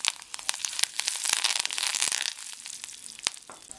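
Dried red chilies and curry leaves crackle and spit in hot oil for a Tamil poriyal, a dense close sizzle punctuated by sharp pops throughout.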